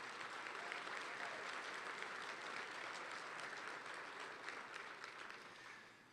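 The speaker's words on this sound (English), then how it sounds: "Let's give our educators a big round of applause." A large audience applauds educators at a county education event, a faint, distant wash of continuous clapping that holds steady and then tapers off near the end.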